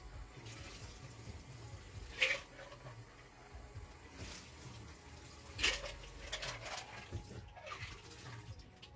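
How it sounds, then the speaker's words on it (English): Ice is rinsed under a running tap: a soft, continuous flow of water with a couple of brief louder splashes and clinks, heard fairly close at low level. "Hold on, I gotta rinse my ice."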